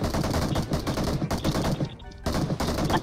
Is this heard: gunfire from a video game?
yes